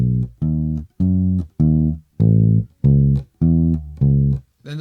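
Bass guitar plays a walking blues line through measures 9 and 10 toward the turnaround: eight evenly spaced, sustained plucked notes in a steady quarter-note pulse, clear and close with no talking.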